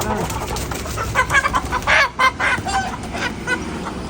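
Country chickens at a market cluck and squawk in loud, repeated bursts close by, over a busy background hum.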